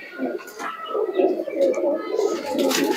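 A racing pigeon coos close by, its low throaty rolling calls running almost without pause through the short stretch and swelling and dipping in waves.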